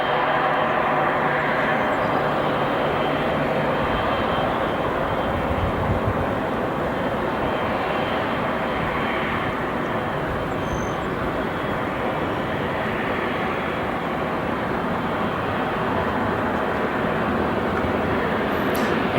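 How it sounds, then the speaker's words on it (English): Korean Air Boeing 777 jet engines spooling up for departure at O'Hare, a loud, steady, broad roar that holds for the whole stretch without letup. "I guarantee you're all going to enjoy this spool up engine noise here."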